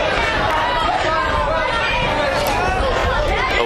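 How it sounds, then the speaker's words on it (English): Crowd chatter at a baseball game, a steady dense hubbub of many voices filling the stands, loud and continuous throughout. "As the crowd continuing to swell up."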